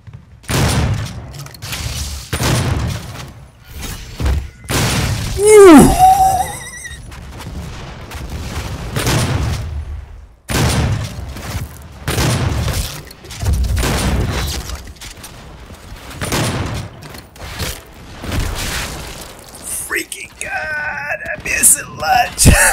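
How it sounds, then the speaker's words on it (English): Super shotgun blasts in DOOM multiplayer, a series of loud booming shots spaced irregularly amid chaotic game noise, with someone talking and exclaiming over the action. "Super shotgun."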